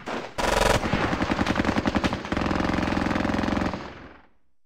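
Guns fire in the wargame Squad Battles Eagles Strike: loud, rapid bursts of automatic fire roll on continuously for about three seconds before cutting off.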